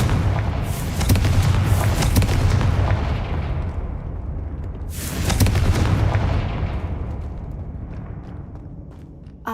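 A Confringo blasting spell in Hogwarts Legacy lands as two booming explosions a few seconds apart, each a loud rumbling burst that slowly dies away.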